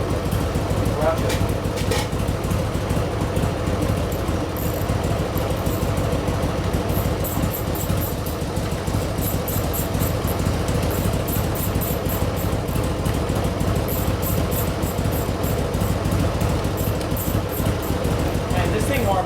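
A Harley-Davidson Sportster engine idles while warming up, a continuous loud, throbbing rumble up close and steady the whole time, with a voice briefly audible over it.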